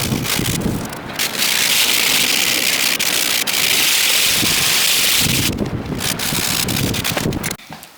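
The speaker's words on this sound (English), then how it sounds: "The wind is stronger than it has been in like" Strong wind buffets the microphone outdoors in rainy weather, making a loud, rough, roaring rumble that surges and drops away briefly near the start and end.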